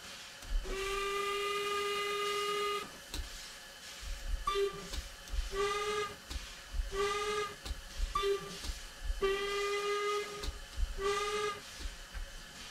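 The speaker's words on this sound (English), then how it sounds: "we will hear the Isle of Wight railway hooters" Isle of Wight railway hooters on a steam engine in a Train Sim game: a long blast followed by several shorter hoots in irregular bursts, close and clear over a low hiss.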